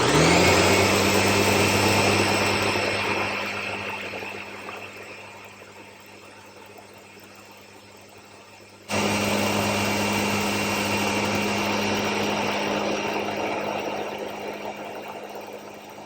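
A Ninja blender whirs through pumpkin muffin batter, a loud steady motor roar that sags and labors partway, cuts out briefly, then surges back at full strength and runs on alone.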